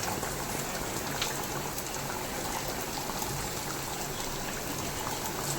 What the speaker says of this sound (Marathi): आता आपल्या चिकनला मस्तपैकी उकळी आली आहे